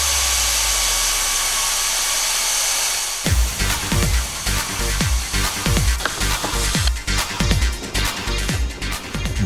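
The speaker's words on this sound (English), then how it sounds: "Here, you see a huge mahogany being cut by machines." Machines cut through a huge mahogany tree. A steady hissing, whirring machine noise gives way to a fast series of rough, rhythmic grinding strokes that grow denser toward the end.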